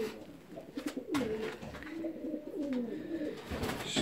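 Fancy ornamental pigeons coo in soft, low, rolling calls, several phrases in a row at close range over quiet background noise.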